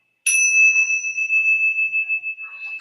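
A small bell strikes once sharply and rings on with a clear, steady tone that slowly fades, close and bright, during a holiday yoga session, with faint jingling near the end.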